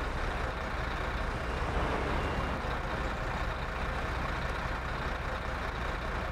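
Heavy truck in the SnowRunner game with its brake being set: a steady, dense rumble of engine idle and air-brake hiss fills the whole stretch at constant loudness, without voices.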